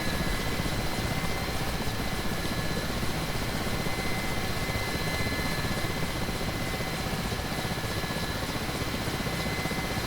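A Mi-8 helicopter flies in the DCS World flight simulator, its continuous rotor and engine noise forming a steady, even broadband roar with no voices heard.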